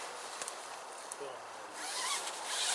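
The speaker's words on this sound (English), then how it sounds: "undo the zipper" A sleeping bag zipper is pulled open close by at an indoor camp-out setup, a quick rasping run followed by a longer scratchy pull, with some faint talk nearby.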